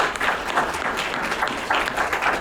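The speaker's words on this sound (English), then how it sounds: "let's give our panelists another round of applause" An audience at a workforce development leadership forum applauds panelists, a dense steady wash of many hands clapping, fairly loud throughout with no clear voices.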